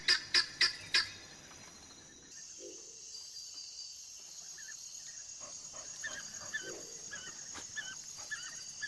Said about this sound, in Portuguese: A matilha de cães selvagens só podia ficar parada no chão, latindo de impotência e raiva